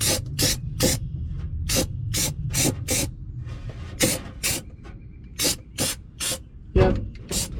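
Rattle-can spray paint goes onto a rusty Ford Ranger leaf spring hanger in a string of short, loud hissing bursts, each a fraction of a second, with brief pauses between them, up close.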